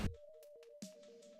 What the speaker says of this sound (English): that's the fucking phone's ringing.